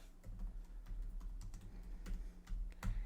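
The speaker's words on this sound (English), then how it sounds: "let me do some typing on the keyboard" Typing on the keyboard of a Microsoft Surface Laptop Studio: soft, quick key clicks in an irregular rapid rhythm, close and fairly quiet, with a sharper tap near the end and no talking.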